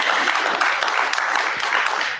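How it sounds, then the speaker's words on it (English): An audience at a town hall meeting gives a round of applause, a continuous, fairly even wash of clapping at moderate level that tapers off at the end. "round of applause for them"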